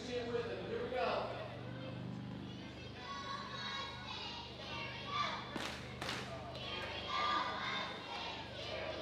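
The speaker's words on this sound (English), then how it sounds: "they're going to get the chant going, so make sure you guys chant with them" Baseball fans behind home plate during the 9th inning raise a loose crowd noise with scattered shouts and a couple of sharp claps or thuds, fairly distant and low in level, with voices mixed in.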